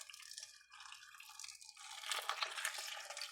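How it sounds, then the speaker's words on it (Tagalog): Water runs into a cooking pot of meat, a soft, bright splashing pour that grows slightly louder toward the end, with no talk. "Lalagyan ko na ng tubig."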